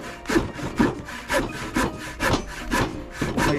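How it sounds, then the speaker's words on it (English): A long hand saw ripping through wood while framing a gable roof, with steady rasping back-and-forth strokes at about two per second, close and moderately loud, and no talk. "That's ancient time when you use the long kind of saw to cut material."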